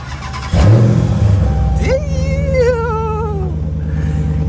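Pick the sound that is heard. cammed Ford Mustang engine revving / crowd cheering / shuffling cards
cammed Ford Mustang engine revving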